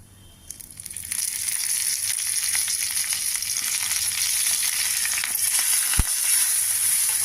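Curry leaves hit hot tempering oil with mustard seeds and asafoetida, setting off a loud, steady crackling sizzle that swells after a quiet start and carries on close up, with one sharp clink near the end.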